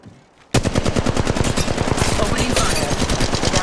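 A sudden burst of rapid automatic gunfire in a shooter video game, loud and close, with evenly spaced shots hammering on continuously after a brief quiet start.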